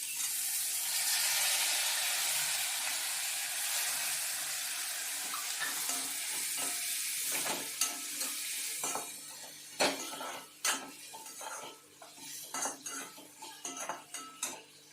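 Pomegranate seeds stir-fried with thinly sliced spine gourd in a pan, a soft sizzle fading under repeated metal spoon scrapes and clinks against the pan, close and irregular.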